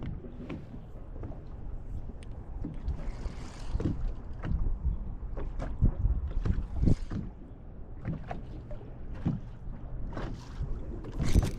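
Wind buffets a small boat on a lake during fishing, a steady broadband rush with gusts and repeated thumps and knocks of gear or water against the hull throughout, no talking.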